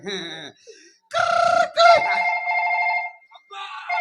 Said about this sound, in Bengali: আবার ফোন ঢুকছে আবার ফোন